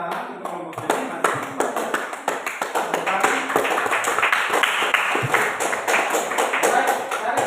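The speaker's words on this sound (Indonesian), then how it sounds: "tepuk tangan untuk kelompok ini" A classroom of students claps for a student group that has just presented, a loud run of many overlapping hand claps that builds and continues steadily for several seconds.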